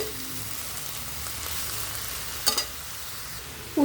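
Chopped bitter gourd leaves fry in a pan with a steady, soft sizzle while being stirred, with a brief utensil clink partway through.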